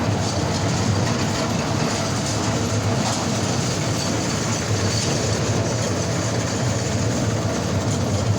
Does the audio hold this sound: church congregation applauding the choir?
no